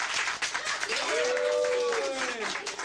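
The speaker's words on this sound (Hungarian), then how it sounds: "Hát ez nagyon szép volt, tapsoljátok meg!" A small audience claps at a children's Christmas show featuring Santa Claus, a brief ripple of applause heard alongside a sung or sustained vocal tone and some talk.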